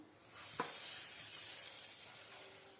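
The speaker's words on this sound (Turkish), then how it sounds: "Kavurduğumuz şehriyelerimizi katalım." Roasted vermicelli is tipped into freshly cooked milk pudding for a Turkish aslan sütü dessert. A single soft knock comes first, followed by a steady hiss and a gentle stirring swish.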